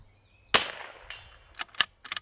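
A single sharp precision rifle shot cracks from an L3I Hyve chassis rifle outdoors, a loud close report decaying quickly, followed by a few faint clicks and handling noises.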